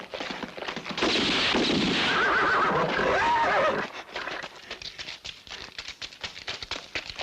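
A horse whinnies loudly for a few seconds, followed by scattered hoof clatter and movement.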